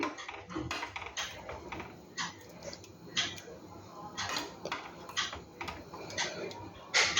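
A spoon stirs boiling herbal rice porridge, karkidaka kanji, in a pot, with repeated irregular scrapes and knocks against the metal at close range and a soft bubbling hiss underneath.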